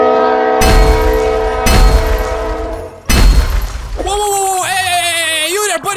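Choo Choo Charles, a monster train in GTA 5, rams something open: loud, booming impacts with a blaring train horn, then a rising, wavering whistle-like tone, while someone talks over it.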